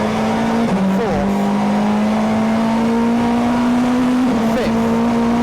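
Onboard a 1996 Honda Accord Super Touring race car at speed on a circuit, the engine screams loud and close in a sustained high note, with quick gear changes cutting in about a second in and again near the end.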